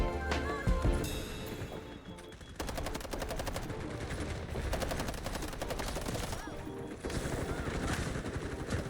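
QBZ assault rifle fire in an online shooter game: a short burst, a brief lull, then long sustained rapid automatic volleys, loud and close.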